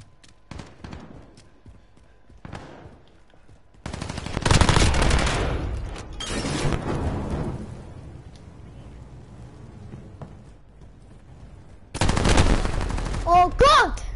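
Rapid automatic gunfire in a PS4 shooter game, loud bursts of machine-gun fire in two main volleys amid quieter game sounds, with a voice occasionally talking.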